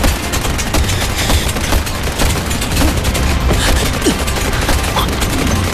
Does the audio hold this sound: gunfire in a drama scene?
yes